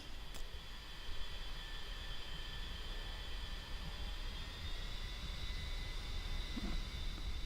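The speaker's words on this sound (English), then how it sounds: "engine still running nice and smoothly" A-10C jet engines in the DCS flight game during the takeoff roll, a faint, steady whining drone with a thin high tone and a constant low rumble throughout.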